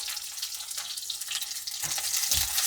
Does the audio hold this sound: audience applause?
no